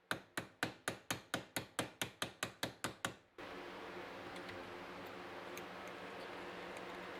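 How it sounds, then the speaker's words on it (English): Hammer taps on a golf cart part being knocked loose: about fourteen sharp, evenly spaced metallic strikes close up, then they stop and only a steady background hiss remains. "Nope, still gonna have to use the hammer"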